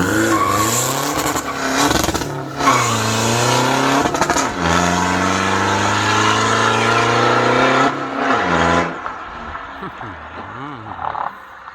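A remapped, all-new 2022 pickup with a freshly fitted exhaust accelerates hard in first gear. The engine roars loudly as the revs climb steadily, then drop and settle back into a lower growl, with talk over it.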